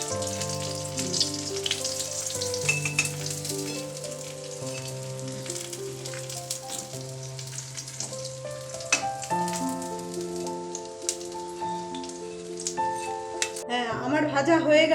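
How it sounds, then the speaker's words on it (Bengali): Ash gourd slices fry in a pan with a continuous close crackling sizzle and occasional utensil scrapes, moderately loud, running beneath background music throughout. "হ্যাঁ, আমার ভাজা হয়ে গেল সবগুলো।"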